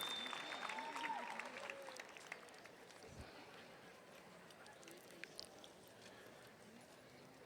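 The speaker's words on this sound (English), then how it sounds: "How about a big cheer for Akasola?" An audience at a university freshman convocation cheers and applauds, a dense, steady wash of clapping and crowd noise that sounds fairly distant and low in level, easing slightly over several seconds.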